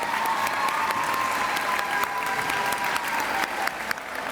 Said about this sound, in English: let's give them a huge round of applause if you made all-region band